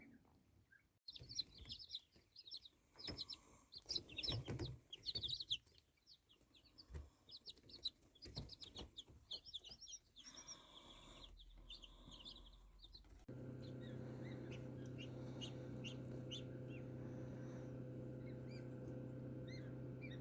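High, rapid peeping and chirping from newly hatched mulard ducklings, dense and busy at first, then thinning out over a steady low incubator hum.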